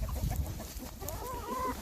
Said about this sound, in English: my 3 roosters are getting ready to go to their new home